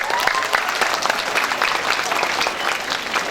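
Students at a Jakarta high school talk give steady, sustained applause, a dense even wash of many hands clapping throughout.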